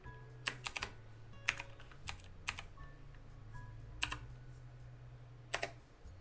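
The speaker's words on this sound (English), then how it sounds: "I gotta type this down." Someone types a name on a computer keyboard: a handful of quick, light key clicks in small bursts with pauses between, close and quiet over a faint steady hum, no voices.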